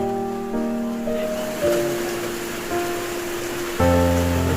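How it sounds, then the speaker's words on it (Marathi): Heavy monsoon rain pours in a steady hiss in the Konkan, with a low droning hum running through it. "पाऊस भरपूर पडतोय"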